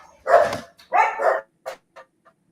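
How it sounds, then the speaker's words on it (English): A few dogs bark in short bursts, two loud yelps followed by fainter, clipped barks trailing off. "Everybody's barking."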